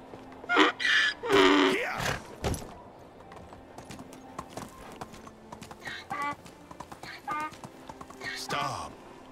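Donkey hooves clip-clopping in steady bursts while riding in the medieval-life game Medieval Dynasty, close and fairly loud, with an animal groan and brief sounds between the hoofbeat runs.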